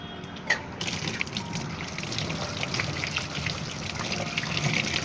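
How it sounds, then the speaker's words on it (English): Water from a hose running into a catfish tank, a soft steady trickling and splashing that stays faint and continuous throughout. "So while sending water in the tank,"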